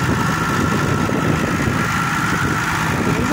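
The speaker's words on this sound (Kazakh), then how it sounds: "Беларусь трактор. 2019 жылғы трактор" A 2019 Belarus tractor engine idles steadily and close by, a continuous low mechanical rumble with constant vibration and no pauses, in a village setting.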